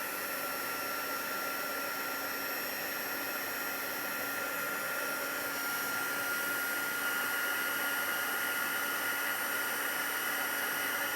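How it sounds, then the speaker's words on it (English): A craft heat tool blows hot air in a steady, even whoosh with a faint whine, continuous and fairly close, rising slightly in loudness toward the end, with no talking. "I'm just going to turn on the heat tool"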